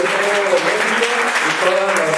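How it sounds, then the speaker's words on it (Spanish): Steady applause from an audience for the panelists at the close of a Spanish-language event on liberty values, continuous and fairly loud throughout with a murmur of voices mixed in. "Quiero pedirles un fuerte aplauso para todos los panelistas"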